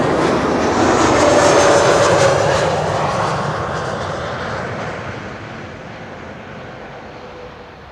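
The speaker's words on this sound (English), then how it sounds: "Two Embraer 190s coming in." Two Embraer 190 jet airliners arrive at Schiphol, a loud broadband jet roar overhead that swells early, then slowly fades as the aircraft pass into the distance.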